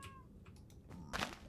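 A cat meowing in Minecraft, a short, faint, close call with one stronger meow near the end.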